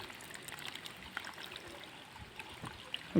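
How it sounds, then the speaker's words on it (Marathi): Water trickles and splashes softly in a steady, faint stream as it drains out of a bottle, close by and quiet. "त्याच्यातला पाणी जरा खाली करून घ्यायचं आहे"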